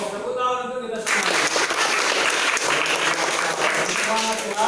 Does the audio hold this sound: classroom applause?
yes